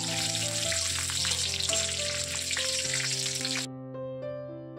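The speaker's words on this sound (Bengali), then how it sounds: "আর এখন আমি দুটো তেজপাতা আর গোটা গরম মশলা দিয়ে আর কিছু কাজু বাদাম হালকা ফ্রাই করে নেব।" Cashews and raisins fry in hot ghee in a wok with whole garam masala and bay leaves, giving a loud, steady, crackling sizzle that cuts off sharply near the end, leaving a quieter tonal hum.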